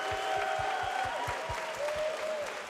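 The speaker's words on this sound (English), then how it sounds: "Applaud yourselves." A crowd applauds at the Super Mario Maker 2 Invitational 2019 finals, a sustained, even clatter of clapping heard alongside a steady rhythmic low thumping and faint tones from the venue.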